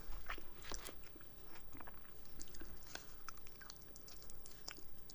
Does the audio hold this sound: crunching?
yes